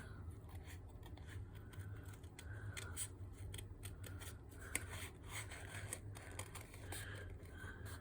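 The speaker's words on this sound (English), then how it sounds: "And my scissors are from Tim Holtz's line." Close, crisp snips of Tim Holtz recoil scissors cutting paper, a quick series of short slicing strokes with light rustling in between, no one talking.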